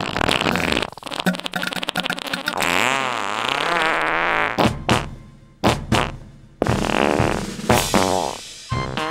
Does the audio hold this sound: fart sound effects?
yes